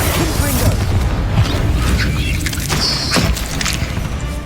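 Confringo fire-blast spell exploding in Hogwarts Legacy on PS5, a loud, dense booming roar that fills the whole stretch with crackling, crashing bursts and a brief bright tonal shimmer near the end.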